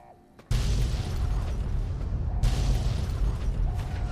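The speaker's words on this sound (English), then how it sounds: "This explosion shit needs to stop." A loud explosion erupts in the Fallout: New Vegas Lonesome Road DLC, a sudden boom followed by a sustained heavy rumble and debris roar that stays dense and near, with a second surge of blast noise midway.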